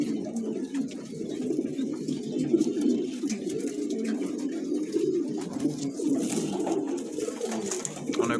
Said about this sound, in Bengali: রাজুল করিম ভাইয়ের সাথে যোগাযোগ করে এই ধরনের কবুতর আপনারা কালেকশন করতে পারবেন